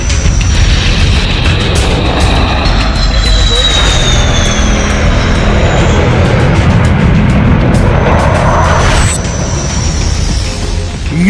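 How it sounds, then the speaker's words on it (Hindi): A military fighter jet lands on and takes off from an emergency airstrip built on an expressway, a loud, steady roaring jet engine rush with a rising whine near the end. "सुल्तानपुर की ये तस्वीरें, ये फाइटर जेट, ये लैंडिंग और ये टेक ऑफ।"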